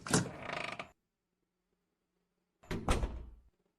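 Two bursts of a door opening in the horror game The Witch's House, each a creaky mechanical rush under a second long, separated by near silence with a faint low hum.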